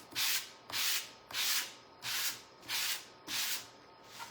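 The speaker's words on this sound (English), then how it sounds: "I'm gonna have to sand that off." Hand-sanding fuzz off a surface: six even back-and-forth rasping strokes in a steady rhythm, close and fairly quiet, with no talk.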